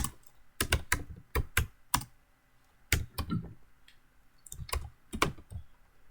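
Someone types an Oracle SQL query on a computer keyboard in a burst-and-pause rhythm of crisp, close keystrokes, with no talking.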